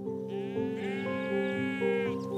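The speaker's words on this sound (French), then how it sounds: "les moutons présentent un intérêt écologique déterminant dans la régulation des présalés" Sheep bleating on the salt meadows of the Mont-Saint-Michel bay, several overlapping wavering bleats from a flock, close and fairly loud over a constant background drone.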